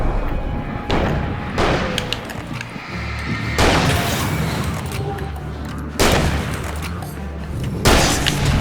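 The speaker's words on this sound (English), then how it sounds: "let's just throw down a flashbang real quick" A flashbang grenade thrown during play in Alan Wake, heard as a string of loud booming thuds and bursts over a dense, rumbling game soundscape, with a final sharp blast near the end.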